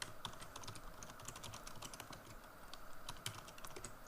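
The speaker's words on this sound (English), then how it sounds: "Type in my email address" An email address is typed on a computer keyboard, a quiet, fairly rapid run of light key clicks with uneven rhythm and a few sharper taps, heard alone.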